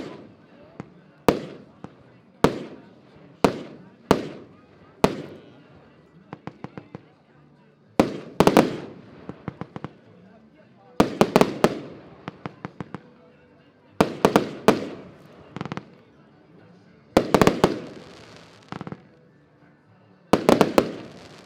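Diamond brand fireworks are set off at a December demonstration shoot, with sharp cracks and bursts in irregular volleys, some rapid crackling strings, loud and close, separated by pauses where people talk.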